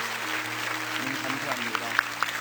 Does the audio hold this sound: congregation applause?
yes